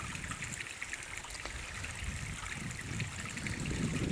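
A mountain creek flows in spring, a continuous close rush and trickle of water that swells slightly toward the end, with no voices.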